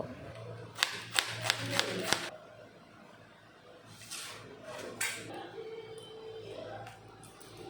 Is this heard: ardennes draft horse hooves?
no